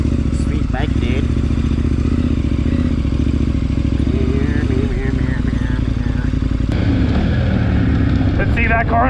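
KTM 1090 adventure motorcycles ride off-road on a steep descent, a loud continuous engine drone with shifting revs, wind buffeting and clattering over rough ground, with people talking over it.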